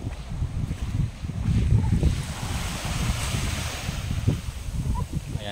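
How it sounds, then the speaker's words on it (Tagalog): Sea waves wash continuously onto a beach at high tide at Sitio Tangal, Palauig, Zambales, a steady broad roar of surf mixed with wind buffeting the microphone, no voices heard. "So high tide ngayon mga kapiheron, kaya yung tubig abot dito."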